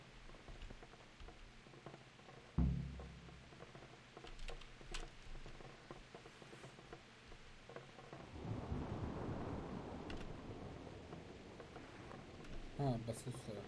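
Rain falls and thunder rumbles in the medieval game Kingdom Come: Deliverance, with a sharp thunder crack early on and a swelling downpour later, all faint and under occasional quiet talk.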